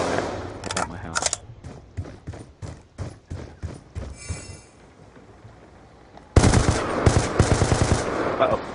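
Automatic gunfire in Call of Duty Black Ops 2: a string of evenly spaced shots, a short lull, then a louder, denser burst of rapid firing to the end.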